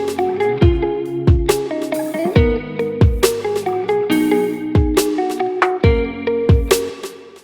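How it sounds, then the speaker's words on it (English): Snare drum hits with reverb and delay effects in Ableton Live, sharp strikes repeating in a steady pattern, each followed by a ringing wash and delayed echoes over a tonal backing, loud and with no talking. "So now I have reverb and delay on the snare."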